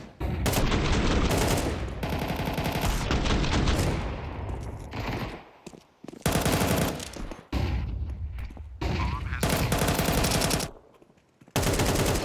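Gunfire fills a Counter-Strike professional match, with dense bursts of automatic rifle and pistol fire crackling in long volleys that are broken by short gaps of near silence. The shots are loud and there is no talking.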